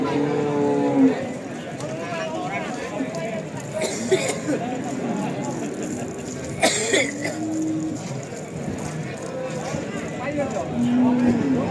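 Simmental cattle moo several times, long low calls rising over a busy background of people talking and milling about at a livestock market in Tuban.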